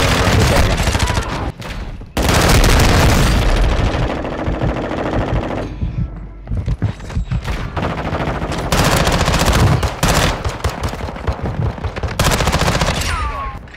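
Video game gunfire rattles in loud, sustained automatic bursts with brief gaps, dense and close throughout.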